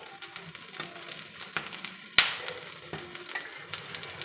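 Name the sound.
bread omelette frying in a pan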